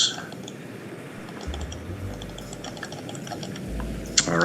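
Quick, soft clicking of keys on a computer keyboard as a command is typed for a Minecraft build, light and close over a steady low hum, with no talking.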